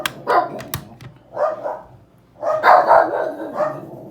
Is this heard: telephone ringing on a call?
no